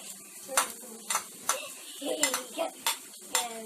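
Garlic going into a hot pan and being stirred while a sauce is cooked, heard as a series of close metallic clinks and scrapes of a utensil against the pan over a faint sizzle.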